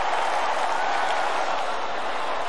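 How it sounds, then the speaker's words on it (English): A football stadium crowd in Malaysia keeps up a steady, broad roar after Lee Sharpe's goal in a 1995 pre-season match between Selangor and Manchester United, a continuous distant wash of cheering. "Crowd still buzzing from that Lee Sharp goal."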